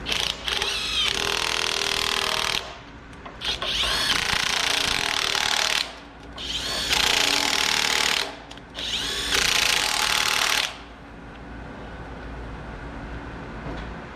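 Power tool snugging down bolts on a 6.7 Cummins pump, loud close buzzing and hammering bursts of a few seconds each, separated by short pauses, with no talking.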